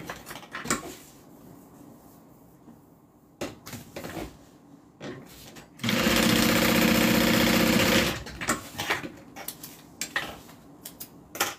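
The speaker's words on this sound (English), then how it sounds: "I'm just going to re-stay stitch this down." Sewing machine stay stitching a bag strap connector, a loud steady mechanical whirr for about two seconds, framed by clicks and handling knocks before and after.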